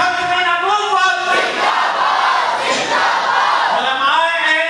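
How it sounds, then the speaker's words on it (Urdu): A large conference crowd roars religious slogans in unison, a loud sustained collective shout filling the hall, with a leader's voice calling out between the responses. "دل کے ساتھ نعرہ لگاؤ، نعرے تکبیر، نعرے رسالت"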